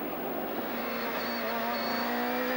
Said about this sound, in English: Robbie Gordon's engine still sounding as if it's got the requisite number of cylinders and the due amount of boost